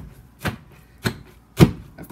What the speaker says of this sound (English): I'm going to begin the process of pounding it.